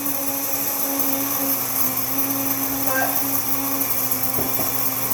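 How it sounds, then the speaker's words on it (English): Wonder Mill electric grain mill grinding hard wheat berries, a steady loud motor drone with a whining hum that runs unbroken throughout, with faint talk underneath. "when using the Wonder Mill, you have to start it first and then add your berries so we don't jam"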